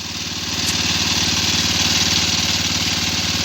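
An engine-driven water pump runs steadily close by, its small motor giving a continuous, even drone that swells slightly after the first half-second and then holds at a constant level, with no voices.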